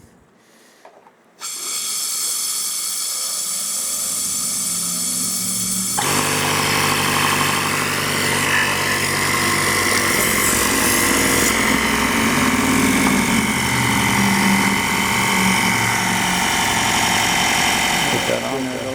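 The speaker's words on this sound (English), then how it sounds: "Maybe a minute from the time the compressor turned on until it shut off." An air bag suspension compressor on a 1929 Chrysler with self-leveling air bags kicks on after a short quiet moment and keeps up a loud, steady buzzing hum without letup.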